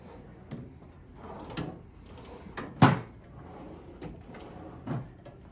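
Drawers of a US General service cart slide and knock several times in a row, with one sharper thump midway and lighter rattles around it, close up.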